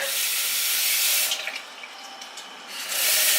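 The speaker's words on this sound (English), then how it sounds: "I'm going to add a little water." Water poured from a tap or jug into okra soup ingredients, with Scotch bonnet peppers, ready for blending. There is a steady, close rush of running water that eases off briefly midway and then swells again.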